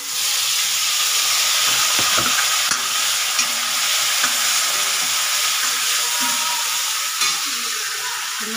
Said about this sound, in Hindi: प्याज फ्राई हो गया टमाटर डाल दो फटाफट में